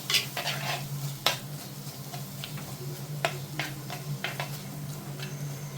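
Salted masala paste for a sardine (mathi) peera dish is stirred in a pan, with close spoon taps and scrapes against the vessel over a low, steady sizzle.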